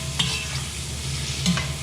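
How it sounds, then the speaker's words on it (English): A spoon scrapes and breaks up sausage and bacon frying in a pan for Thanksgiving stuffing, with two distinct scraping strokes over a steady close sizzle and no talking. "So I'm using the spoon here to break up the sausage a little bit."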